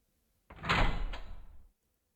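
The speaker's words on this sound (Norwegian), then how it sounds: "Da går vi inn den siste døra, faktisk." A door in the video game Tyr Spiller Clouded Heart opens with a single loud sliding, scraping rush that swells quickly, holds for about a second and cuts off into silence.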